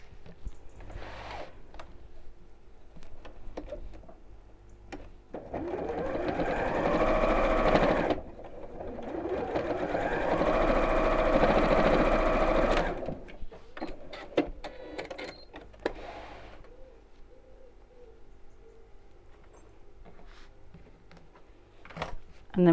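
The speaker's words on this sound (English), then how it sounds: "And this time we'll sew straight across the bottom." A sewing machine stitches straight across the bottom of a child's fabric backpack, a fast mechanical whir rising for several seconds, pausing, then running again, with light handling clicks and rustles before and after.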